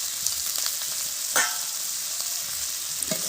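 Pork with ginger, garlic and onion paste sizzles and fries in a pan, a steady hiss broken by scraping stirs and a few sharper clinks of the utensil, heard close and alone.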